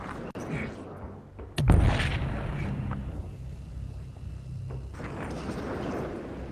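A sharp, booming shot in a video game is followed by a rumbling tail and softer background battle noise at moderate loudness.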